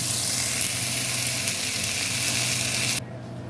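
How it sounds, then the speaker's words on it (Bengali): Tomato and spice masala sizzles steadily in hot oil in a pan, a dense continuous frying hiss that holds loud and even before dropping away abruptly near the end. "এইভাবে একটু ভেজে নিলে রান্নাটা খেতে খুব ভালো হয়"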